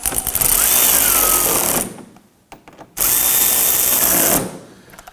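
Two bursts of a power drill snugging down bolts on a 2018-2024 Toyota Camry fender liner, each running about two seconds with a short quiet gap between, loud and close with a whining motor tone.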